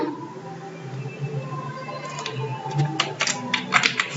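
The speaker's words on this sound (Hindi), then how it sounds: "कंट्रोल के साथ F6 प्रेस करेंगे" Keys pressed on a computer keyboard during accounting software data entry, a quick run of sharp clicks in the second half, close and moderately quiet against a faint hum.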